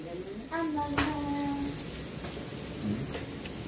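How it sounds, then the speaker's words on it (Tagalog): Pork sizzles in a hot pan for caldereta with soy sauce added, a steady close crackle of frying with a few brief tonal scrapes near the start. "Check natin yung ating ginigisang pork para sa caldereta."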